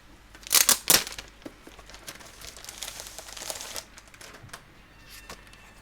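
Paper and plastic wrap crinkle and rustle up close as a new Harry Potter book is unwrapped and opened, with a few sharp crackling bursts early, then softer handling noises.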